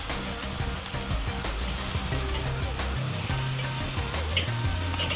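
Sweet Thai chili chicken wings sizzling steadily over direct heat on a Weber kettle grill, a continuous close crackling hiss with faint pops throughout.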